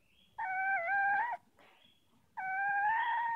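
A weak, dying kitten meows twice, each cry drawn out and wavering, loud and close with a short pause between, over faint background noise.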